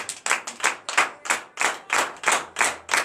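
A church congregation at a morning prayer service in Benin claps in praise, a steady rhythmic beat of about a dozen sharp, close claps with no talking over it.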